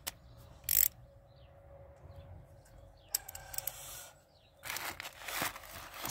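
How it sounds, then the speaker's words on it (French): A ratchet wrench with a 13 mm socket and extension loosens a car battery terminal bolt, giving brief close bursts of quick clicking separated by quiet pauses, with a longer rattling run of clicks at the end. "Et un cliquet, voilà."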